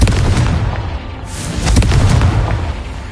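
A Confringo fire spell exploding in Hogwarts Legacy on PS5, a loud booming blast followed by a rumbling, crackling burst that sustains for a couple of seconds.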